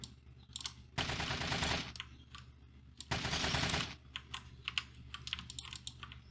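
Two loud bursts of rapid automatic gunfire, each about a second long, shooting zombies in the game Zombie Raid: No One Survives, followed by scattered single shots and clicks from the game.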